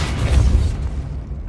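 A Confringo fire spell blast in a Hogwarts video game, a loud, deep booming explosion that rolls and fades over about a second and a half, with no talking.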